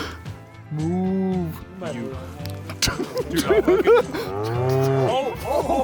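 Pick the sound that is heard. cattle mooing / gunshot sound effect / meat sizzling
cattle mooing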